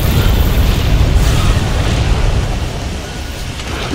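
Bomb explosions in Monster Hunter World: Iceborne, a loud sustained rumbling blast with heavy low-end boom that fades slightly over four seconds, no voices.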